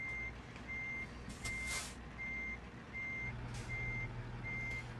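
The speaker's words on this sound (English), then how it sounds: "here comes the beeper" A truck's reversing beeper in American Truck Simulator gives about seven steady, evenly spaced beeps over a low engine rumble. A short hiss of air cuts in twice.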